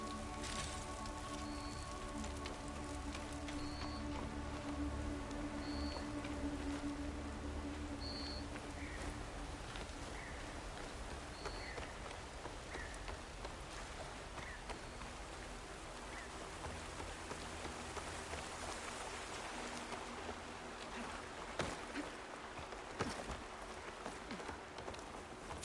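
Rain patters steadily in Horizon Forbidden West, a soft continuous hiss of drops on surfaces, faint and even, with occasional game tones in the background and no talking.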